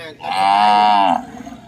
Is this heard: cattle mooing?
yes